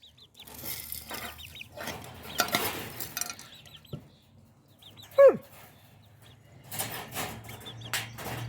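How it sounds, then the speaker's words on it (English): Feather-footed bantam chickens clucking and murmuring in a backyard flock, soft and fairly close, with scattered short calls, a louder squawk midway and a dog whimpering in the mix. "Those little bantams are getting cute. They've got little feathers on their feet."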